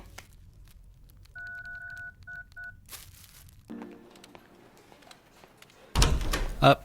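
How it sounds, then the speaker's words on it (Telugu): A phone number being dialed in a quiet room, with steady DTMF keypad tones in short bursts, followed by a door thud and a louder knock or bang at the end. "ఫోన్ ఇయ్యి, నెంబర్ కొట్టి తెలుసుకుందాం"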